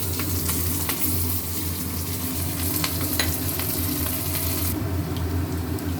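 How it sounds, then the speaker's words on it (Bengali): Onions, green chillies and black cumin sizzle steadily in oil in a pan after fish has been fried, a close, continuous crackling hiss with occasional stirring scrapes and no talk. "পেঁয়াজ ভাজা ভাজা হয়ে গেছে।"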